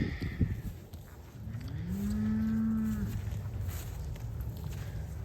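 Cattle mooing on a farm during January grazing: a single drawn-out, fairly loud moo rises and holds for about a second midway, over steady outdoor background noise, with no talking.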